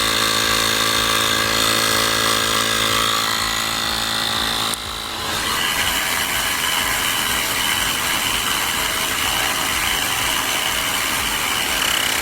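Xiaomi and Baseus portable air pumps inflate car tyres together, a loud continuous mechanical buzz with a strong hum that drops out for a split second, then resumes with a rougher rattling tone.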